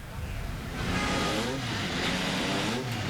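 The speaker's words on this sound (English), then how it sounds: "Looks like Ryan Hunter-Reay will be the next to pull away from the line." IndyCar race car engines roar at the Indianapolis Motor Speedway during 2012 Indianapolis 500 pole day qualifying, a loud, steady, close engine drone that swells slightly midway and continues without pause.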